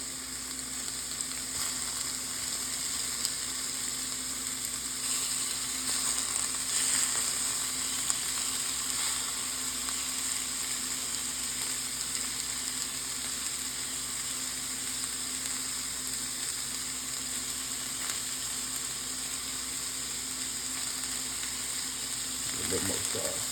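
Sausage for an omelette sizzles steadily in a pan, a quiet, even frying hiss with faint crackles that runs on without a break.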